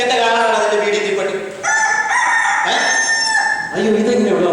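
A rooster crows loudly and close by, a long strained call broken into a couple of rising bursts, with no talking over it.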